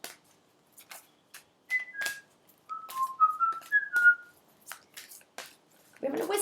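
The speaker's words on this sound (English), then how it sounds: "We're having a whistle" A person whistles a short, bright melody of several clear notes, close by, between quiet clicks and soft mouth sounds.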